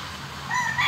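Fighting rooster crowing at a cockfighting venue in Surigao del Sur: a brief, moderately loud, somewhat distant call rising at the end over a low background hum, with no talk.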